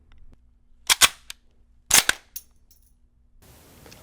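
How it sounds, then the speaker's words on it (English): A Mauser bolt-action rifle is fed from a stripper clip: two loud, sharp metallic clacks, each followed by quick rattling clicks, then a faint hiss, close and crisp against near silence. "that was a Mauser being fed a stripper clip"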